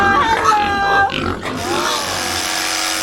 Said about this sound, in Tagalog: Ito na yung aking natitirang mga baboy.